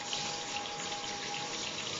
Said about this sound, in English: And the water just runs down.